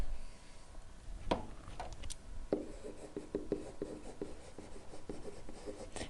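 Chalk or marker scratches across a board while a math limit is written out, a steady run of short close strokes and taps, moderately quiet, with no talking over it.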